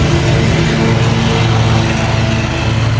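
Steady, loud engine drone of a backpack leaf blower's small motor running continuously at high revs during a spring yard cleanup, close by with no pauses.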